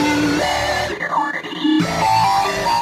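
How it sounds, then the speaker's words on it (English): A harsh, distorted synthesizer plays shifting gritty tones, with a brief drop in the middle before the buzzing sound returns. "if you want to learn how to program filthy sounds like this"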